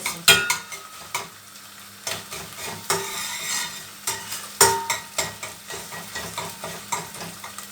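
Tomato and pepper paste being sautéed in a pan for a dried eggplant and rice stew: a steady close sizzle broken by repeated sharp scrapes and clinks of a utensil stirring against the pan, with no talking.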